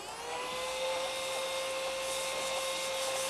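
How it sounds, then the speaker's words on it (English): A small handheld vacuum picks up pastel dust from a tabletop, running as a steady, whiny motor hum with a high whistling tone, close and continuous throughout with no talking. "little vacuum."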